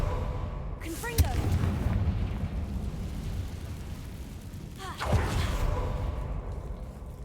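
In the Hogwarts Legacy video game, the Confringo spell sets off two booming explosions a few seconds apart, each with a whooshing burst over a constant rumbling background.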